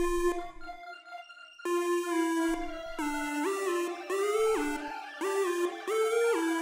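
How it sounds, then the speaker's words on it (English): Bright synth lead playing a melody in a new wave beat, held notes and short sliding phrases with rich harmonics, close and loud, with no voices. "Then I added a lead for the melody,"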